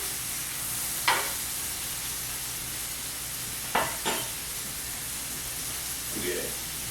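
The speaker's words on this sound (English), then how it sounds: "I'm gonna give it a really good sear on both sides" A prime filet mignon sears in rosemary- and garlic-infused European salted butter, giving a steady, close hiss of sizzling fat broken by a few sharp spatters and scrapes from a pan.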